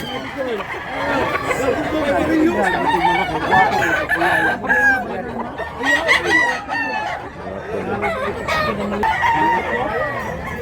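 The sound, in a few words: rooster crowing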